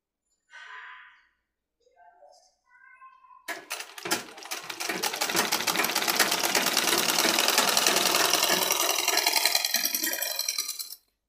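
An electric sewing machine stitches men's underwear fabric in one steady, loud run of rapid needle strokes lasting several seconds, after a few short starts and some talk at the beginning.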